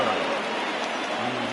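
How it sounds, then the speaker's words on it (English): Rain falls at a baseball stadium during an all-star game, a steady wash of hiss across the whole short stretch, with a commentator's voice faintly underneath. "the rain starting to intensify here"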